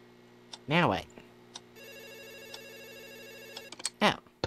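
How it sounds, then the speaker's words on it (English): A telephone rings in a horror video game, a steady electronic trill lasting a few seconds, with voices talking before and after it. "Pick up the phone."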